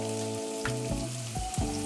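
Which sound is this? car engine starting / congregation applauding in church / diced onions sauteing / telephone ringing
diced onions sauteing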